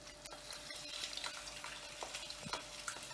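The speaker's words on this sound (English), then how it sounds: "It starts to sizzle, so maybe stand a bit back" An egg frying in a hot pan gives a faint, steady crackling sizzle with scattered small pops, no voices over it.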